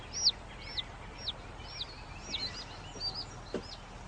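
A chicken chick peeps in a cellar-turned-henhouse, giving a series of high, thin chirps about every half second, close and clear over a quiet background.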